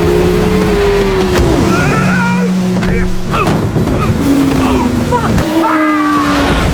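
Two speedboats roar across open sea toward a collision in a film scene, with engine whine and splashing water under a voice speaking over the action.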